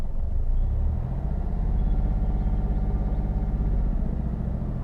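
A car engine held at a steady, raised idle of around 1500 rpm, a continuous close low rumble with a regular pulsing throb and no other sound.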